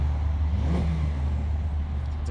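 A Porsche 992 Carrera 4S with a titanium exhaust, free-flow downpipes and a quad-chambered muffler gives a brief rev, a short rising pulse over a steady low, muffled engine rumble heard from outside the car.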